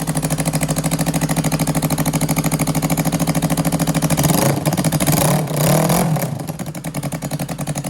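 A street bike engine idles loudly close by at about 1,500 rpm with a rapid, steady pulsing throb, briefly swelling in a blip of revs before settling back to idle.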